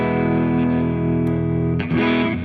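Electric guitar, a Stratocaster in pickup position 4, played through heavy distortion with a large hall reverb, a sustained chord ringing out before a new strum near the end.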